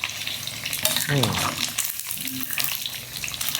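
Battered pork balls deep fry in hot oil with a continuous close bubbling sizzle, while a voice briefly speaks over it.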